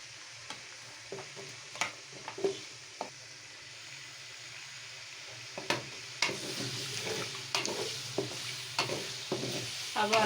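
Potatoes frying in ghee with cumin, a soft continuous sizzle broken by periodic scraping clicks of a spoon stirring the pan, close and fairly quiet.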